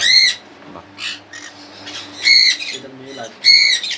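Pet pineapple and yellow-sided conures give sharp, loud squawks in three main bursts, with softer chatter between them and a low background hum.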